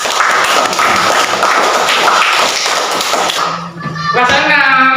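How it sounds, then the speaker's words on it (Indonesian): Classroom applause from a group of students after a presentation, a dense burst of clapping lasting several seconds before fading into a few scattered voices. "Kita beri tepuk tangan dulu."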